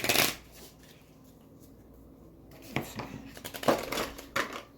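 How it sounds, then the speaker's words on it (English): Decks of tabletop game cards being shuffled together, a riffle at the start, then quieter handling, followed by several crisp bursts of shuffling and card snaps, close by. "you're going to shuffle your decks together to form a new deck"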